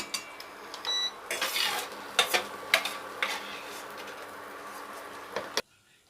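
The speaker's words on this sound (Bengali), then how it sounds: "আমি পেঁয়াজগুলো এই বাটিটার মধ্যে ঢেলে নিয়েছি" Fried onions are scraped and tipped from a metal pan into a bowl, a close series of sharp clanks and scraping knocks with a faint sizzle, ending abruptly.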